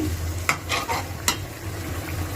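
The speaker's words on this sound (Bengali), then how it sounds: "তারপরে এই যে মাছগুলো ছেড়ে দিয়েছি, এখন কষাচ্ছি।" Pieces of snakehead fish sauté with spices in a pan, a soft sizzle under a few distinct scraping strokes of a spatula, close and brief with no talk.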